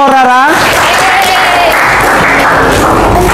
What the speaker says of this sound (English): Okay, give applause for Rara.